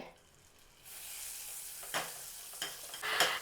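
Butter dropped into a hot pan with chili flakes starts a faint sizzle after a quiet opening, then grows with a few sharper spatters and stirring bursts toward the end.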